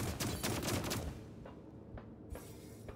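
A rapid burst of shots from a sci-fi gun in the game Dolmen, loud for about a second, then trailing into a few sparser, fainter shots against quiet background.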